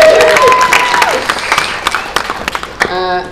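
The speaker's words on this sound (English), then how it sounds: "a round of applause" A crowd at a Rose of Tralee pageant event applauds and cheers loudly throughout, the clapping dense and close, with a voice briefly rising over it near the end.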